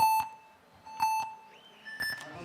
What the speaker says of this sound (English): Well, the buzzers go